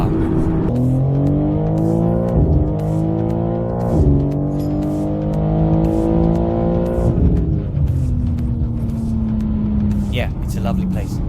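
A stage 2 custom-chipped BMW M4 G82 accelerating hard, its engine note rising in repeated climbing pulls broken by brief gear-change dips, loud and close throughout with people talking over it.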